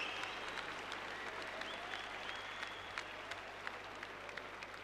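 Crowd applause at an international men's doubles badminton final in Orleans breaks out after a rally, a dense steady clapping with scattered sharper claps, fairly distant and sustained throughout.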